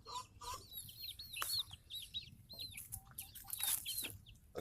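Young chicks from a second hatch cheep in quick high repeated chirps with occasional lower clucks and some wing flutter, close and lively, no voices.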